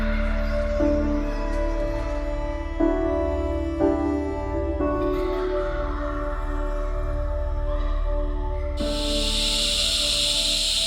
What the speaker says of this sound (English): Deafening cicadas.